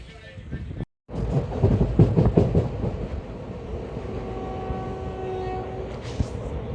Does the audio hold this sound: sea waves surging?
no